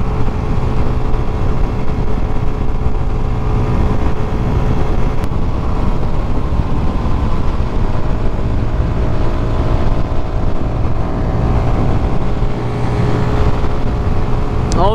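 A Keeway RKF 125 motorcycle being ridden on the road, a steady engine drone with wind rush throughout and brief gear changes.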